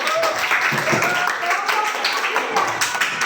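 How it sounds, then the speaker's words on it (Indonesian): Students in a junior high school classroom clap for a presenting group, a brief spatter of applause with voices mixed in. "Tepuk tangan."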